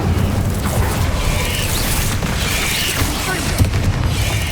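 An Incendio fire spell cast in Hogwarts Legacy lets out a loud, roaring burst of magical flame, a continuous rushing blast layered with dense game effects and no clear voice.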